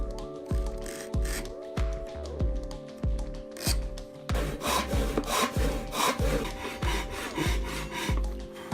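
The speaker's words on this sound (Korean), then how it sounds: "본드가 마르는 동안 반턱 결합을 위한 부재를 재단합니다." A hand saw cuts wooden stock to length for a half-lap joint in a woodworking shop, with steady rhythmic rasping strokes about twice a second that grow louder and denser halfway through, close by and with no talking.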